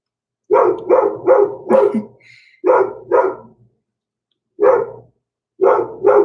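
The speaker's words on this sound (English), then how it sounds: "where the dog isn't barking" A dog barks loudly and close by in quick bursts of three or four, pauses, then lets out single and double barks, with silence between.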